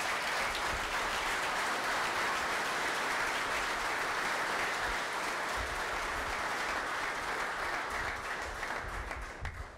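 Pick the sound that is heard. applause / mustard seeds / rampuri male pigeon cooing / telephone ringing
applause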